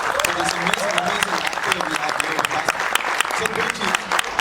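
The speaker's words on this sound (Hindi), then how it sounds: "एक बार जोरदार तालियां।" Audience applause at a film teaser launch event, a dense wash of clapping from a crowd held steady throughout, with a voice and some tonal sound running faintly underneath.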